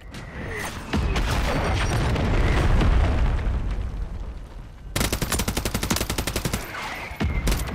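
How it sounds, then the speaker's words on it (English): Mortar strike in the Modern Warfare 3 video game: a heavy rumbling explosion swells then fades, followed by a rapid stutter of automatic gunfire and further sharp blasts, loud and close. "Hostile mortar strike near your position."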